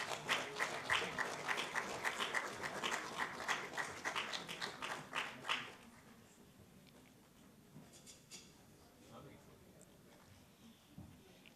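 At a national business awards ceremony in Vigyan Bhavan, New Delhi, an audience claps for a winning team. Scattered, distinct claps fill the hall for about five seconds, then stop abruptly, leaving only a quiet room.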